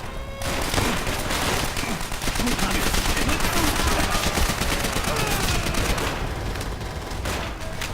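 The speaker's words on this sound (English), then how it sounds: "MG has the hallway covered!" Machine gun fire in the video game Call of Duty World at War, a continuous dense roar of rapid automatic shots that runs almost unbroken throughout, fairly loud with a faint voice underneath.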